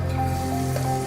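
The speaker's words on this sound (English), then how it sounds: "Add ginger garlic." Ginger and garlic hitting hot oil in a wok give a continuous, close, even sizzle with a faint steady hum beneath, and no voices.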